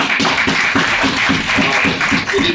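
An audience at a civic ceremony claps in a fairly rhythmic, slightly uneven beat, close and moderately loud, with a few voices faintly mixed underneath.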